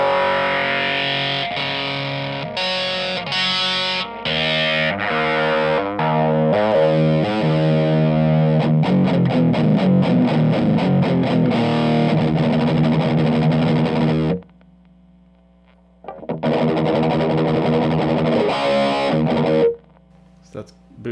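Heavily distorted electric guitar through a Boss Metal Zone MT-2 pedal plays chords and riffs while an EQ boost sweeps and shifts the tone, with brief pauses and a short gap of near silence.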